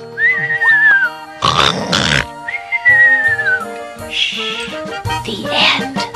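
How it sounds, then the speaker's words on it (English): A sleeping boy in a children's cartoon whistles rising and falling tunes between loud, rough snoring breaths, the whistles and snores alternating close and clear. "the boy was whistling in his sleep"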